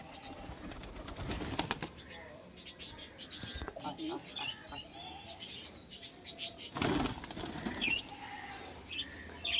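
A male pigeon flaps its wings in loud bursts while being caught by hand, with scattered chirps and rustling and a person talking intermittently.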